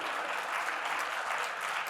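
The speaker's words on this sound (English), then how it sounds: "give yourself a round of applause" Audience applause at a tech conference keynote on improv, a steady dense wash of clapping from a seated crowd that fills the whole moment with no talking over it.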